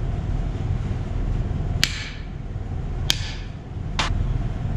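A hammer strikes a center punch three times to mark the cam center on a GM LE2 1.4 engine part, each blow a sharp metallic tap. The taps come at uneven intervals over a steady low background hum.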